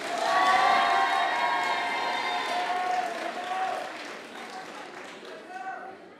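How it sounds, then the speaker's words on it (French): Audience applause and cheering for students at a semi-final eloquence contest, a dense wash of clapping with a few voices calling out, loud at first and gradually thinning toward the end. "vous pouvez applaudir Lali, Lily,"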